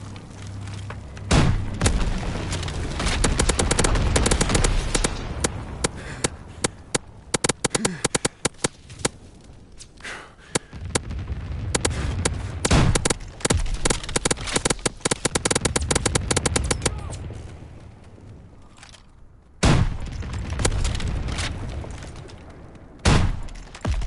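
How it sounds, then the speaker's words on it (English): A bomber run in a PS4 video game drops incendiary bombs, producing a long rolling barrage of booms and crackling blasts that swell and fade, with sharp separate hits near the end, under game voice callouts. "Ready to drop incendiary."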